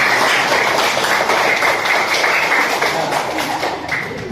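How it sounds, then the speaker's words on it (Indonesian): A class of young students claps for a classmate: a busy, scattered patter of many small hands, fairly loud and steady, slowly thinning toward the end. "Kita beri tepuk tangan untuk Kansa"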